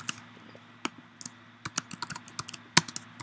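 Typing on a computer keyboard while filling in a client note, irregular quiet key clicks in short bursts, close up with faint background hum and no talk.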